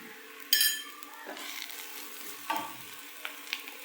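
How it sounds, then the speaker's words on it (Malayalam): Cashews fry in a pan with a soft, steady sizzle, broken by a sharp metallic clink near the start and a few lighter scrapes and taps of a utensil stirring them. "അപ്പോൾ അതും കൂടെ ഇട്ട് ചെറുതായിട്ടൊന്ന് ഫ്രൈ ആക്കാം"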